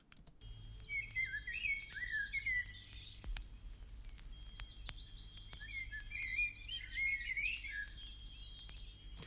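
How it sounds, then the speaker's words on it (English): A music sample: bright chirping bird calls flutter in bursts over a soft crackling vinyl hiss and low hum, with faint bell-like chime tones ringing through. "So you have the birds, the chimes, and the vinyl crunch"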